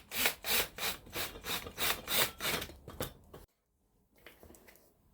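Screws are driven into an Amazon Basics office chair with a hand tool, giving a close, rhythmic grinding that is loud and regular for about three seconds, then a short silence and fainter handling noise.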